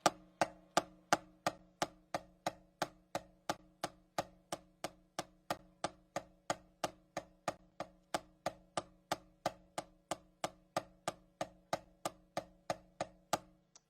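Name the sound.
drumstick strokes on practice pad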